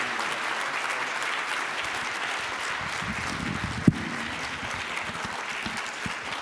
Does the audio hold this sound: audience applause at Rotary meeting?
yes